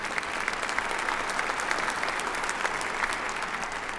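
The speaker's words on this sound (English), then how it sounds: "yeah, you can clap if you want." A church congregation applauds during a sermon, a dense, even wash of clapping sustained at steady volume for a few seconds, with no voices on top.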